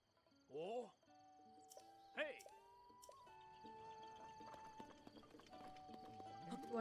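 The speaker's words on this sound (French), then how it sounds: "Je vais reprendre mon cheval." A horse in a Zelda video game gives two whinnying calls, then its hooves clip-clop softly under steady synthesized game music and effects, faint and continuous throughout.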